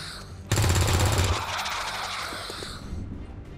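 A gunshot in the XCOM 2 game: a loud burst of rapid sharp shots erupts, then decays into a lingering rumbling tail, with no talk over it.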